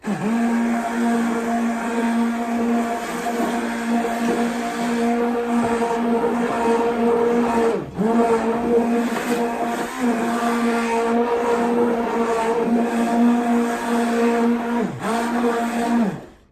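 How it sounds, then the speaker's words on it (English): An immersion blender mixing homemade laundry detergent runs as a loud, steady motor whine, its pitch dipping briefly a few times as it works, with no speech. "and finish up blending now."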